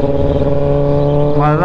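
Kawasaki ZX-10R superbike engine running steadily while being ridden on a scenic road near Raigad, a loud continuous drone with a rising rev near the end.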